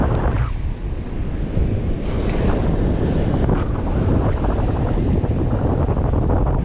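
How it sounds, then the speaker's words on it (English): Steady rain and crashing surf fill a cold December beach with continuous loud broadband roar, buffeted by wind rumbling on the microphone. No voices are heard. "It's still raining."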